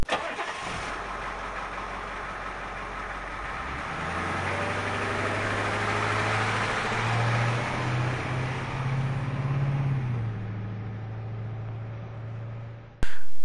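Cartoon bus engine starting and running with a steady low rumble that swells in the middle, close and continuous, then cuts off abruptly at the end.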